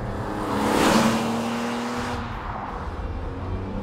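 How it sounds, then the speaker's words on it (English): A BMW E46 M3 driving past, its engine and exhaust note swelling to a peak near the middle and then fading into a lingering raspy drone. "One of the first things that you notice when you're driving the E46 is the noise of the thing."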